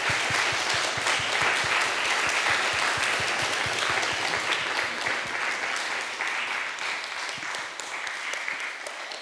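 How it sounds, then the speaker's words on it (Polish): Sustained applause from a large audience, dense and steady, gradually tapering slightly toward the end. "wielkie, wielkie brawa dla naszej gościni Essie Dugin."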